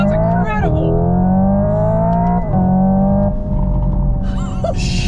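The Hyundai Ioniq 5 N electric car plays a loud simulated engine note that climbs steadily in pitch like a revving gas engine, with two sharp dips like gear shifts, over road rumble.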